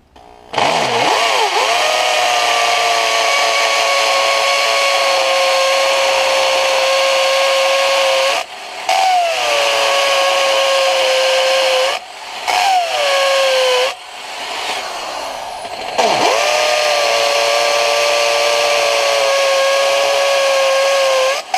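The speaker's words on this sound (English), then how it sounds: "I'll be probably drilling it on 3 inches deep holes" Power drill boring 3-inch-deep holes into concrete for wedge anchors, a loud, steady whine held for long stretches with several brief pauses between bursts.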